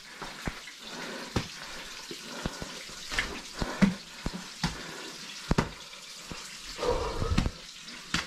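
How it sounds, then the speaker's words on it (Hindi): Water running and splashing across a rocky path between sandstone caves near the Bastei Bridge in Saxon Switzerland, a steady rush with irregular louder splashes and drips, fairly close. "पानी निकल रहा है रास्ते में से, और आप केव्स के बीच में से निकलेंगे।"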